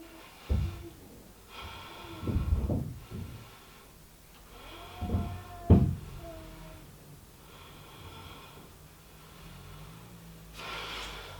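A few deep breaths drawn in and let out during a held yoga pose, soft and close, spaced irregularly with a faint snort-like exhale, alone without talk.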